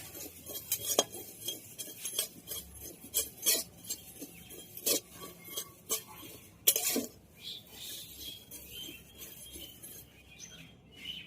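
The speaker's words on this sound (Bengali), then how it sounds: "শুকনো কড়াইয়ে 2 চামচ মতো কালো জিরে ভেজে নেব" Black cumin seeds dry-roast in a hot, dry wok while a metal spoon scrapes and clinks against it in irregular bursts, with sharp metallic taps and soft rustling in between, close and fairly quiet.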